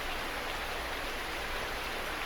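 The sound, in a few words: rain falling outside in a roleplay audio drama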